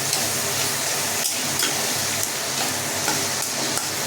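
Potato and pointed gourd curry being stirred in a pan, a dense, loud, continuous sizzle with faint occasional spatula scrapes, close and steady.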